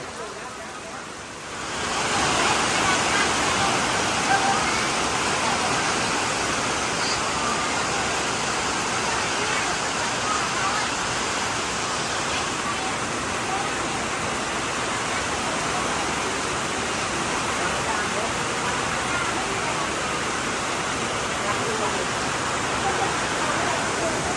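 Steady, heavy rain roars with rushing runoff water, a dense broadband wash that starts abruptly and continues unbroken throughout.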